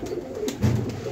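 High-flyer pigeons cooing close by in Lahore, a low throaty coo rolling in briefly against a quiet background.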